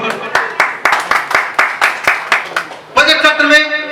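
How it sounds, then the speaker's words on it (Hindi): Rhythmic, loud group clapping at an international electro-homoeopathy conference, a crowd beating out even, synchronized claps for several seconds before a louder burst with sustained tones takes over. "उन अधिकारियों के लिए एक जोरदार ताली तो बनती है"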